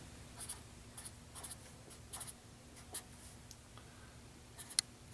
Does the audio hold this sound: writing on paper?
yes